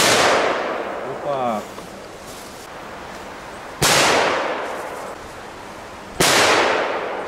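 Loud Belgian firecrackers go off outdoors, three sharp blasts spaced a few seconds apart, each with a long decaying tail, and a brief buzzing sound between the first two.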